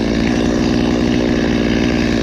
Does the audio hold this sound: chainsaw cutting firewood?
yes